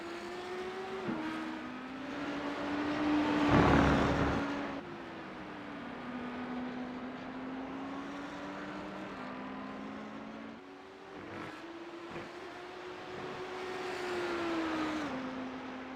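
An Audi GT3 race car screams around the Indy circuit in a racing video game, a loud, steady engine drone that rises and drops through gear shifts, with a brief swell near the start and no talk.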